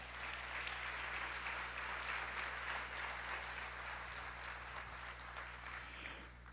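A church congregation applauds during a worship service, a broad, even wash of clapping heard at a distance over a steady low hum, fading slightly at the very end.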